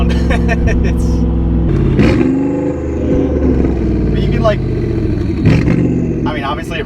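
A Porsche Panamera Turbo fitted with a side exhaust, loud close engine revs rising and dropping in several bursts, with people talking over the engine throughout.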